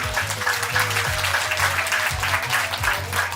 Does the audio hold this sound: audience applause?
yes